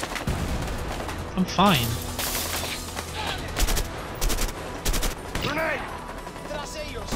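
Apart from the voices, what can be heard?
grenade launcher fire in A Way Out video game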